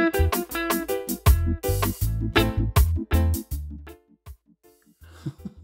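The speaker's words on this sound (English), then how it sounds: "The delay, I haven't tap tempered it, so it would sound like this as well." Electric guitar through a delay effect not synced by tap tempo, a burst of strummed chords and picked notes whose echoes trail off into sparse, fading repeats near the end.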